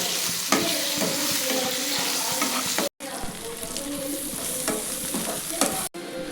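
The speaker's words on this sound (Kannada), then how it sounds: "ಮೊಟ್ಟೆ ಇವಾಗ ಮಿಕ್ಸ್ ಮಾಡ್ತಾ ಇದ್ದೀನಿ" Egg being stir-fried in a hot pan for egg rice, a steady close sizzle with repeated scraping and stirring strokes of a spatula, broken by two brief pauses.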